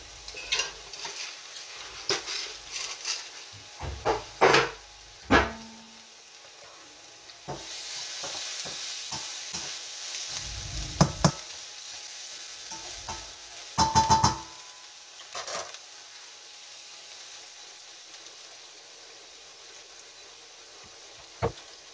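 Garlic sizzles in a hot pan, with stirring, scraping and a few clinks of utensils against the pan, a steady hiss underneath.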